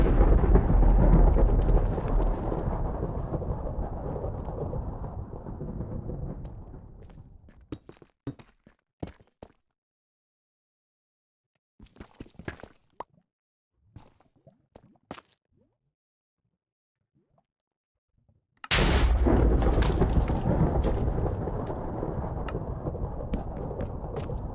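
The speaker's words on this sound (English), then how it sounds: "I left some of the thunder in because, yeah, the thunder was actually jump scaring me too" In Minecraft Bedrock, a thunderstorm rumbles loud and heavy, fades into near silence broken by scattered thuds and clicks, then returns as a sudden loud crash that keeps roaring.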